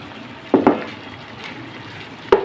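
Tomato paste cooks with fried onions in a pan. A soft, steady sizzle runs underneath, broken by a couple of sharp utensil clinks against the pan, one early and one near the end.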